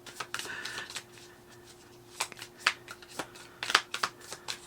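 A new, stiff tarot deck being shuffled by hand, a few quick riffling bursts and soft card slaps close to the microphone, quiet between shuffles, with no talking.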